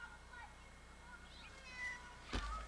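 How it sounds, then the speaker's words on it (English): A single short cat meow sounds near the end, faint against a quiet indoor room with some low background noise. "Now, she's a pretty cat right here"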